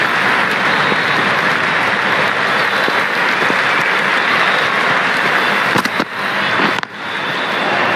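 A stadium crowd in the Cricket 24 video game cheers and applauds loudly after a boundary, a dense continuous roar that cuts off abruptly near the end.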